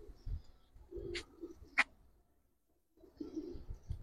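Giribaz racing pigeons coo softly in low murmuring bursts, with a couple of sharp brief clicks mid-way and a quiet gap before the cooing resumes.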